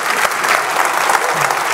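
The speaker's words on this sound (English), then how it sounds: "I would love for us all to just give an applause to all the moms" An audience applauds the mothers in the room, a dense, steady burst of many hands clapping close by that fills the whole short moment without any talk over it.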